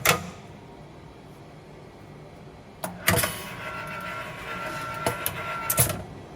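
An M7000 machine working on plastic parts, starting with a sharp thump, then a stretch of low hum, then mechanical whirring with clicks and clunks, close and moderately loud.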